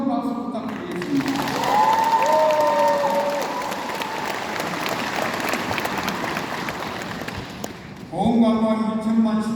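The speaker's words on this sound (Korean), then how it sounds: "다시 한번 큰 박수 부탁드리겠습니다." Loud audience applause fills a Korean county town-hall meeting with the provincial governor, a dense steady clapping that swells for several seconds before a speaker's voice returns.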